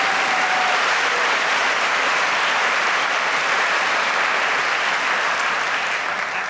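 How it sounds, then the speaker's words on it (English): A large audience at a university baccalaureate ceremony applauds the student speakers, a loud, sustained wash of clapping that fills the room evenly from start to finish. "you can give them an applause"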